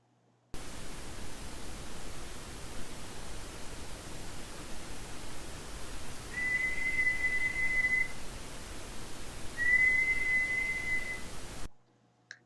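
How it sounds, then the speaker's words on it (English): A thin, high whistle sounds twice over a steady hiss of noise, each tone held for a couple of seconds before stopping. "producing a whistling sound"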